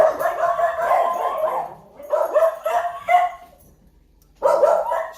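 Two excited pet dogs bark loudly and close by in a home, a long burst of overlapping barks followed by a pause, two more short bursts, a near-silent gap, then barking again.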